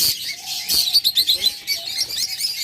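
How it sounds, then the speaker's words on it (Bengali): Pet birds sitting in pairs in cages at a sale, giving a quick run of high, sharp chirps and tweets close by, with no voices. "দেখুন পেয়ারে পেয়ারে বসে আছে প্রত্যেকটা পাখি"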